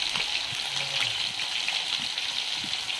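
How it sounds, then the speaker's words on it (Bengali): Pieces of hilsa fish fry in oil with a continuous, hissing sizzle, with a few soft low knocks underneath. "আরও এখানে কিছুটা মাছ আমি ভাজা বসিয়ে দিয়েছি"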